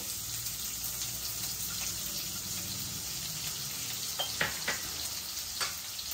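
Chopped onions fry in hot oil with cumin in a steady, close sizzle while making a methi dal tempering, broken by a few sharp utensil clinks near the end.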